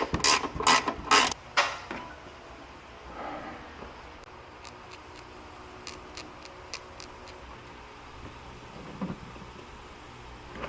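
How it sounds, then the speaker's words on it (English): A ratchet works at a bolt on a hood strut bracket of a 2024 Toyota Tacoma, giving a few loud close clicks and clunks early, then a run of faint quick ticking pawl clicks in a quiet garage. "I'm going to try to do it with a ratchet, but it's not going to work because the ratchet is too big."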